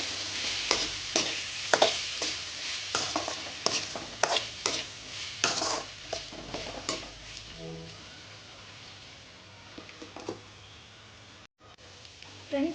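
Potato pieces frying in a covered pan and being stirred; a soft sizzle under repeated scraping and stirring knocks, with a voice talking faintly at points.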